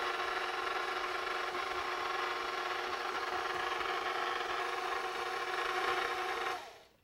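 An electric mixer running on very low speed combines cookie dough in a bowl, giving a steady, even whir that holds at constant loudness for about six seconds before cutting off abruptly.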